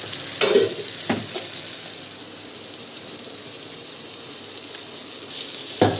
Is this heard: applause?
no